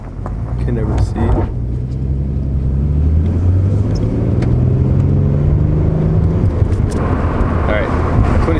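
A 2016 Ford Mustang with a V6 engine drives along, its low engine rumble and road noise rising steadily as it gathers speed, heard from inside the car while someone talks over it.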